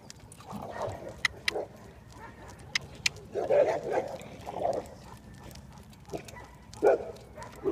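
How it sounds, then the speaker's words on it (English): A few short dog barks come in scattered bursts, fairly faint and at some distance, over a quiet outdoor background during a horse sulky ride. "Another couple of dogs."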